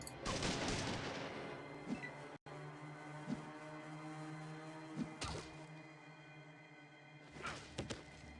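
Gunfire in the game Fallout 2, several sharp separate shots and thumps spaced a second or two apart over a low steady hum, fairly quiet, with no talking.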